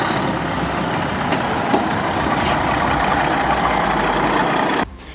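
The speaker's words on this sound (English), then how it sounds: "How beautifully the driver has driven his Peterbilt 359 over this uneven pathway." A Peterbilt 359 logging truck engine rumbles loud and steady at close range as it crawls over an uneven dirt pathway, with a brief hiss near the start and the sound cutting off sharply at the end.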